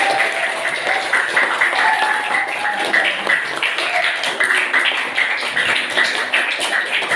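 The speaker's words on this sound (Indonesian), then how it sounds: "Kasih aplaus untuk temannya" Steady applause from a classroom audience for a student group finishing a presentation on computer hardware: dense, even clapping from many hands that carries on throughout, fairly close.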